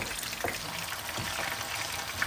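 Basa fish fillet frying in a pan with oil spooned over it, a steady close sizzle with small splashes and no talking.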